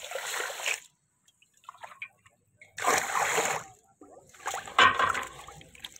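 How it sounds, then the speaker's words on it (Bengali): Rice and lentils are washed together in water for chicken khichuri, giving three bursts of wet splashing and sloshing separated by short quiet gaps, close and moderately loud. "ভালো করে আমরা ধুয়ে নিচ্ছি।"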